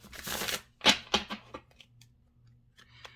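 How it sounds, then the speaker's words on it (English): Mantegna tarot cards shuffled by hand: a dense papery riffling burst, then a few sharp flicks and taps that fade to quiet with a last soft card snap. "And you can actually fast forward through the shuffling."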